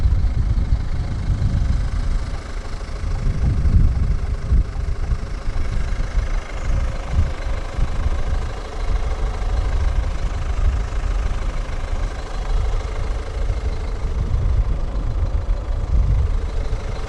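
A 2014 Ford Focus 1.6 TDCi diesel idles under the open bonnet, a steady low, slightly knocking diesel rumble that holds even throughout, close and loud with no talking.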